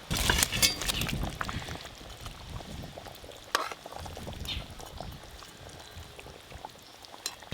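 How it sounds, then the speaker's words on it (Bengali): Fish curry gravy for a katla fish dish boils in a pan, giving a close, continuous bubbling hiss that swells and eases, with a few small clinks and no talking. "গ্রেভিটা বেশ ভালো করে ফুটে গেছে"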